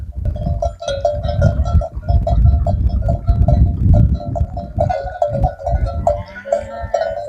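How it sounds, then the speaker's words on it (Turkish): A flock of sheep bleats repeatedly nearby over a busy, rumbling farmyard background, with calls overlapping and a faint metallic clink now and then. "Koyunlar çok güzel maşallah."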